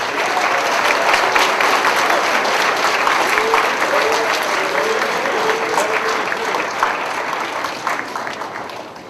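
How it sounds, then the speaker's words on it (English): An audience at a high school 10th and 11th grade academic awards ceremony claps for a third-year winner, a thick, even burst of applause that holds steady before gradually tapering off at the end. "round of applause for our third year winner"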